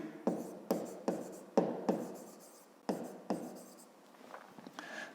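Handwriting on paper while working a 5th-grade math exercise: several distinct pen strokes and taps in an irregular rhythm, close and fairly quiet, with a faint scratchy tail at the end and no talking.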